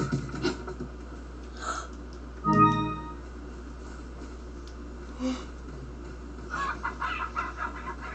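Chicken clucks from the Resident Evil 4 Wii edition video game, a few short clucking calls and one louder squawk scattered over a quiet game ambience.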